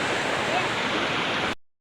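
A small waterfall with a larger one nearby, its steady broadband roar of falling water filling the air evenly before cutting off abruptly.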